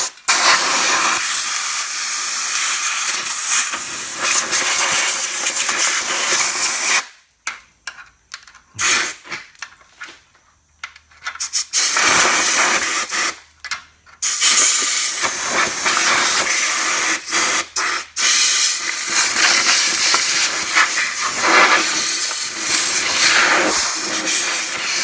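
Compressed air from a blower hisses loudly into a rusty Toyota Tacoma truck frame, clearing out debris in long sustained blasts broken by a few short pauses and stuttering bursts.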